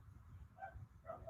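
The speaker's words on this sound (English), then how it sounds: "I think that was my dog outside the window." Dog barking outside a window, two short distant yelps at low level over a steady background hum.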